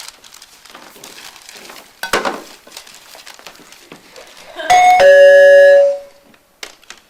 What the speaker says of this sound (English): Listen, there's a ring at the door.